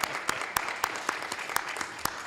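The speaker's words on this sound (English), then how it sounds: "I believe it's okay to applaud" An audience at a city council meeting applauds, with one sharp, close clap sounding in a steady rhythm every quarter second or so over a softer, continuous bed of clapping.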